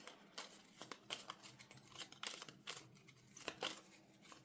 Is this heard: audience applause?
no